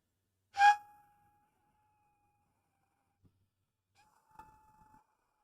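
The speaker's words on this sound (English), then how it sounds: "This is the Aztec death whistle in 3D print." A short, piercing shriek from a 3D-printed Aztec death whistle that quickly fades, followed by quiet and a fainter, thinner second whistle with light handling noises.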